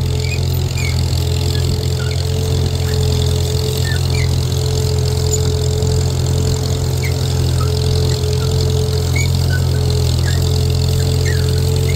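An old M tractor drags a 10-foot disk through a field without fluid or weights, its engine droning steadily and loudly at a constant pitch with a low rumbling hum that never lets up.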